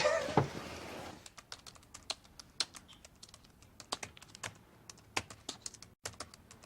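Fingers tap a computer keyboard in an office, a quick uneven patter of keystrokes heard close and fairly quiet, with a brief louder rustle at the start and no talking.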